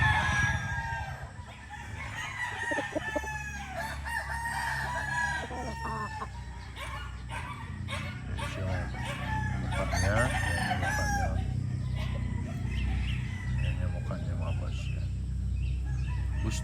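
Boston Millionaire roundhead gamefowl roosters crow repeatedly among clucking fowl in a farm yard, with someone talking throughout and steady background noise.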